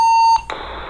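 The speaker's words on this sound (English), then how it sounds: "that beep is an MDC 1200 identifier" An MDC 1200 identifier burst from a two-way radio on a repair bench: a steady loud tone, a brief gap, then a harsh buzzy data squawk, all under a second.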